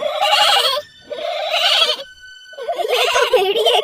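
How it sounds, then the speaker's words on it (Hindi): Cartoon goat kids bleat in three quavering calls, each under a second long, clear and close, with short pauses between them. "उन्होंने बकरी के बच्चों की आवाज सुनी।"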